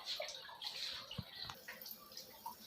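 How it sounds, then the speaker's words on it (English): Water splashes and trickles through a Livpure purifier filter during forward flushing, a close, fairly quiet stream with scattered drips and gurgles. "This is a forward flushing of the filter."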